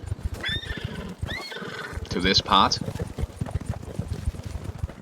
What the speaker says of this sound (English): you can ride your horse